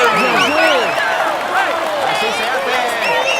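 Crowd applause in the Tour de France 2019 cycling video game on PS4, a steady dense wash of clapping and cheering with whistle-like voices rising above it, continuous and fairly loud throughout.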